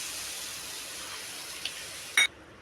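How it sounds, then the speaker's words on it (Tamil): Water pours steadily into a cup for coconut burfi syrup as a soft, continuous hiss, ending with a brief clink of the cup. "அதே கப்பில் 3/4 கப் அளவு தண்ணி எடுத்துக்கோங்க."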